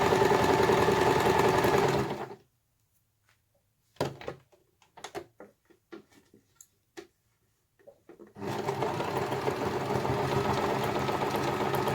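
Stitching an Easter bunny, a sewing machine runs in a steady, close mechanical hum for a couple of seconds, gives way to scattered small handling knocks and clicks, then starts up again in a sustained run.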